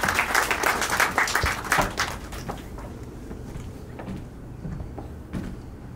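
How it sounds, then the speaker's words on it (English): Sustained applause from an audience at an award show fills the room, loud at first and then thinning out to scattered claps and a few knocks. "massive round of applause as well."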